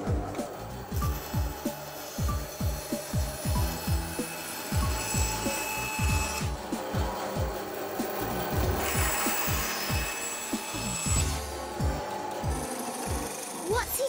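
Repeated rasping strokes of a saw cutting wood to size for a bird box, a steady back-and-forth rhythm close by with faint voices underneath.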